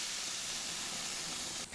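A fake plant-based burger patty sizzles on a grill as fat drips onto the flames, giving a steady, dense hiss that fills the whole moment before cutting off abruptly at the very end.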